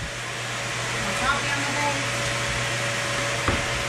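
A vacuum cleaner drones steadily through a house being readied for guests, a constant whirring hum with a couple of brief knocks near the end.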